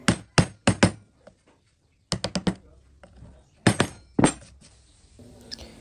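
A wooden mallet taps a chisel while carving a wood ornament, landing sharp, close knocks in quick clusters of three or four with brief pauses between groups, loud and clear with no talk.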